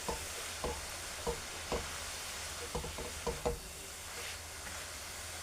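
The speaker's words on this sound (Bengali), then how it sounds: "4 থেকে 5 মিনিট আমি এরকম সুন্দরভাবে নেড়ে নিয়েছি।" Grated red carrots for gajar halwa fry in a pan under a soft sizzle, while a spoon scrapes and knocks against the pan in irregular strokes, with no talking.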